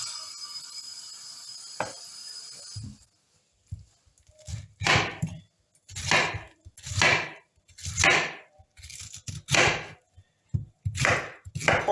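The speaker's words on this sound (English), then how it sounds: "So I'll be dicing it." A knife dicing fruit on a board for juice, about nine sharp chopping thuds at a slow irregular rhythm, close and fairly loud, preceded by a brief hum and a single click.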